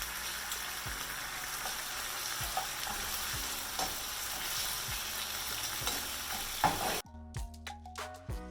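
Shrimp frying fast over high heat give off a steady, dense sizzle for most of the clip, then the frying drops away abruptly near the end, leaving a few sharp clinks and scrapes.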